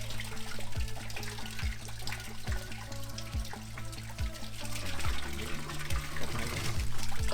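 Cold stream water from a waterfall trickling and splashing steadily nearby as it is scooped up for drinking, a continuous liquid babble with faint low thumps throughout.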